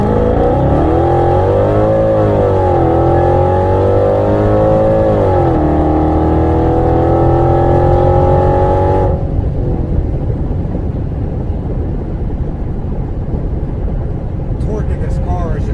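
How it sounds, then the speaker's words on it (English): A 700-horsepower supercharged Mercedes-Benz SL55 AMG pulls away hard from a standstill, with a loud engine note rising through the revs, dropping at a gear change, climbing again and then cutting off into a lower rumble, heard from inside the car. "We can test some acceleration from a standstill."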